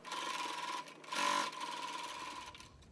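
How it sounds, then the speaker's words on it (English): A sewing machine stitches the ends of an origami tote bag, a soft, close mechanical hum with a brief louder burst of stitching in the middle. "So I'll sew these two ends."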